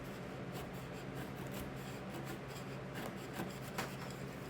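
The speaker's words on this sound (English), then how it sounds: "So I used a rasp to clean up the inside" Rasp scrapes out the inside of a walnut mallet head in steady, close rubbing strokes with a few sharper rasping accents.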